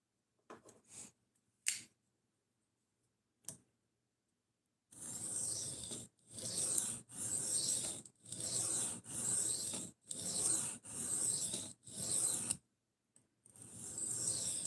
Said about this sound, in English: it's a sharpening stone